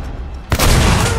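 Gunfire erupts in a Hawaiian warrior battle film: after a half-second of quiet, a sudden loud burst of shots kicks in and continues as a dense, sustained roar of close firing.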